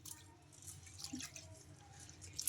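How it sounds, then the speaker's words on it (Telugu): Water splashes softly in a kitchen bowl as moong dal lentils are rinsed by hand, with a few gentle drips and light sloshes close by. No one speaks. "ఇలా బాగా రెండుసార్లు శుభ్రంగా వాష్ చేసుకోవాలి"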